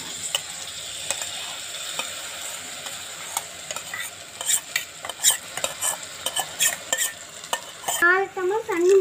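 Soaked rice being stirred in a pot for tomato rice, with a steady scraping and sizzling frying texture that is close and continuous, and a brief burst of clatter near the end.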